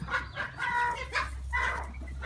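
Chickens on a Thai farm, a fighting cock among bantams, cluck and call in close, loud bursts, with short squawking phrases following one another over a low background rumble.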